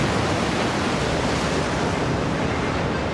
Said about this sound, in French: il y a quelques vagues là, qui tombent